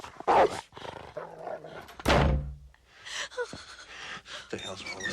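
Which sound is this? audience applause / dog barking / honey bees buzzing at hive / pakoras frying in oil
dog barking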